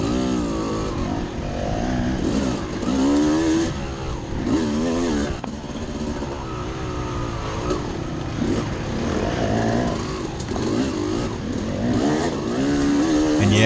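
Dirt bike motorcycles race through a hare scramble course, engines snarling and rising and falling in pitch as riders jockey to pass, loud and continuous throughout with no talking.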